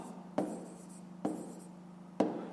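A pen writes out a math solution on paper in three short, distinct strokes, each a scratchy tap followed by a brief scrape, close and quiet against faint room hiss.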